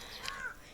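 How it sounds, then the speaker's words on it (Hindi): Crows caw in the snowy Himachal mountains, a single short call in open air, moderately distant against quiet background. "कौवे भी देखो क्या क्या क्या क्या कर रहे हैं"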